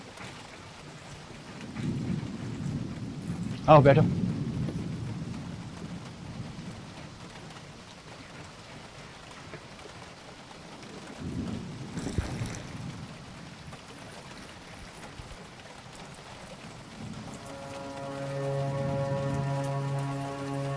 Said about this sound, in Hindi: सुबह तो बिल्कुल नहीं लगा था कि बारिश पड़ेगी, लेकिन अब देखो।